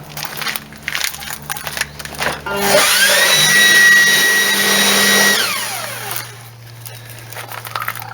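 A blower blasts a rat nest out of a 1964 Corvair engine, a loud broadband rush that swells around three seconds, holds for a couple of seconds with rattling debris, then tapers off, with no talk.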